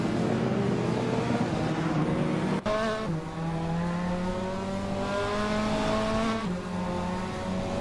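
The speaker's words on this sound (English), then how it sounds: "Bot Alex Has No Brain is driving a 1992 Citroën AX GTI" A 1992 Citroën AX GTI racing in a video game drones at high revs with a steady engine tone, dips briefly at a gear change, then climbs again, loud and close throughout.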